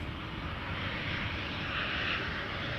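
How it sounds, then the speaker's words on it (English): An Embraer 190 jet airliner arrives at Amsterdam Schiphol Airport, a steady, fairly distant broadband engine roar and rush of air that holds evenly throughout. "Next Embraer 190 is arriving from Berlin."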